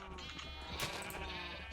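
A sheep in the video game Minecraft gives a single drawn-out bleat, close and clear over a faint steady background hum, with no talking.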